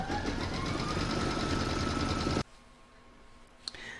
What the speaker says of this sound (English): going to put that in my machine and stitch round number 3